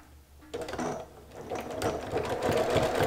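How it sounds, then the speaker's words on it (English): Sewing machine zigzag stitching around the edge of a quilted sea glass sailboat postcard, starting after a short quiet moment and running as a steady, close, rapid mechanical chatter that grows louder, with no talk. "we just are going to sew all the way around the edge with the zigzag stitch"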